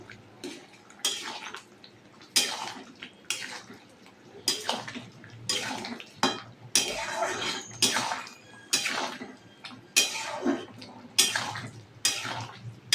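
Paneer curry is stirred in a pan, with a spoon scraping and knocking against metal in repeated strokes, close up, over a faint bubbling simmer and no talk.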